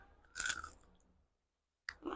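Crisp Jaffna-style kokis, a fried snack, bitten and chewed up close, with a loud crunching burst, a fading stretch, a short silence, then a second crunchy bite.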